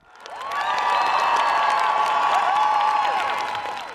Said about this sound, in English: Look at the crowd in Prague in the Czech Republic.